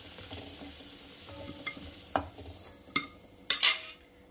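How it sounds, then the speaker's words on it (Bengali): Potatoes sizzle in hot oil in a pan while a metal spatula stirs them, a low steady frying hiss broken by several scraping clinks against the pan that grow louder toward the end, with no one speaking. "আলুগুলো ভাজা হয়ে গেছে, আমি আলুগুলো এবারে তুলে রাখবো।"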